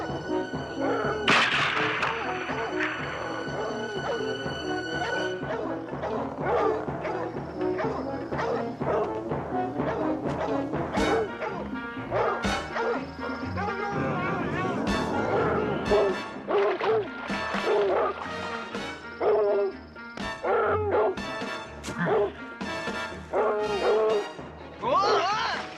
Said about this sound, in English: Hold on to the dogs.